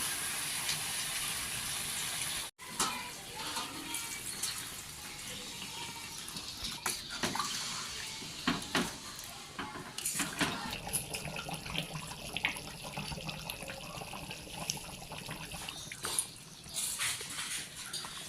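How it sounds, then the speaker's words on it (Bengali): Water splashes steadily into a pot of mutton curry with potatoes after the meat has been browned, a continuous close pouring and bubbling wash with a sharp knock early on. "এখন আমি এর মধ্যে জল দিয়ে দিব"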